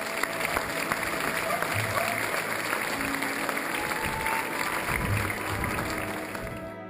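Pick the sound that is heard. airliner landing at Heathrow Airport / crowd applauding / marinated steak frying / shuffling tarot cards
crowd applauding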